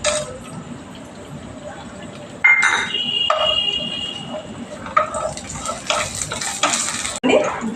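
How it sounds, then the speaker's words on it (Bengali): Garam masala stirred into hot water with oil and ghee in a cooking pot for Malabar biryani, giving continuous close scraping and stirring with brief sizzling bursts and a few clinks of a spoon against metal. "8 কাপের মতো গরম জল, 1 চামচ 2 চামচ তেল ঘি দিলাম। এখানে গরম মশলাটা দিলাম।"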